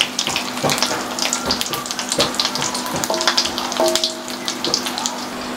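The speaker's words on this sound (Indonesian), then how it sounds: "Jadi sekarang kita masak ikan goreng." Fish frying in a pan, a dense crackling sizzle with rapid oil pops throughout, close and fairly loud, with no talking.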